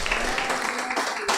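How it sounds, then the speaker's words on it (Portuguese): A church congregation at a Portuguese-language service claps together in a brief, steady burst of applause, heard as a dense patter at moderate distance. "Vamos aplaudir o Senhor Jesus."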